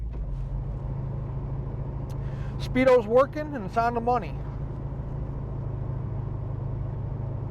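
A 1979 Pontiac Trans Am cruises along with a steady low engine rumble and road noise, a voice speaking briefly over the drone midway.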